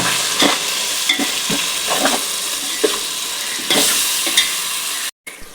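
Tomatoes sizzling and cooking down to a paste in a pan for chicken biryani, a loud steady hiss of frying with regular stirring scrapes, ending in a brief cut to silence.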